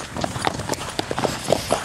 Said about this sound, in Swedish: nu ska vi väl gå lite här med hästisarna